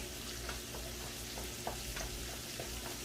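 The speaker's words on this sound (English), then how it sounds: "we're just gonna stir this up" Cabbage, shrimp and sausage sizzle steadily in a hot pan while being stirred, a continuous close frying hiss broken by soft scraping strokes.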